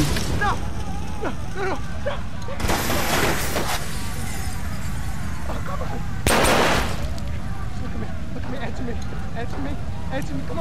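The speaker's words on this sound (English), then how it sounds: "the handgun there took out the enemy in a couple of shots" Handgun fire in the Watch Dogs game, a few sharp shots and louder blasts punctuating a busy action scene, heard under steady talk.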